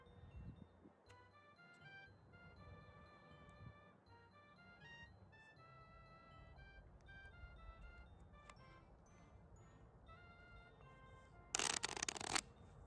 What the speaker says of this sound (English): I'm not impressive at shuffling cards